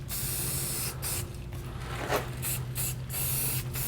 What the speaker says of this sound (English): So we're just going to spray this.